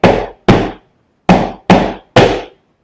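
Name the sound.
flamenco double golpe foot strikes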